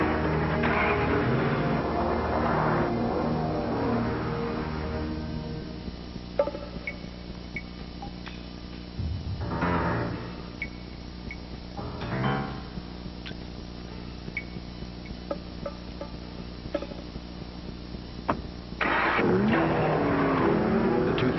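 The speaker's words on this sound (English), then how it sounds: "The 2005 Ford Mustang. The legend lives." A 2005 Ford Mustang engine revs in a TV advert, with several bursts of throttle and rising engine roars between quieter stretches and clicks.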